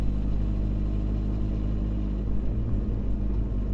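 A 2016 Suzuki Bandit 1250S motorcycle engine runs in a steady, deep rumble with a strong low-end throb, close to the microphone and continuous for the few seconds, with no voices.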